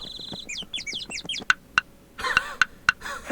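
A cartoon bird in the Ready to Read with Pooh video game chirps with rising and falling tweets, then pecks at a head with five sharp, evenly spaced taps, close and clear with no talking.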